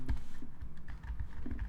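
Java code is typed on a computer keyboard in a quick, steady run of close, soft keystrokes that pause briefly midway.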